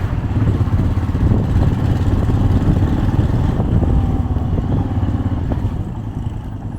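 Motorcycle engine running steadily while riding through Solang Valley near Manali, a continuous loud rumble with wind buffeting and occasional clatter, no voices.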